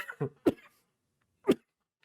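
A few short, close coughs, a quick cluster followed by a single cough after a brief pause.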